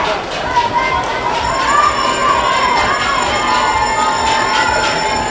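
Spectators at an international school swimming race cheer and shout in a steady, echoing roar under an announcer's live commentary, with occasional shrill whistles or calls rising above the crowd.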